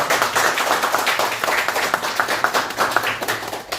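An audience claps warmly in consolation, a dense, sustained round of applause that runs evenly throughout with no voices over it.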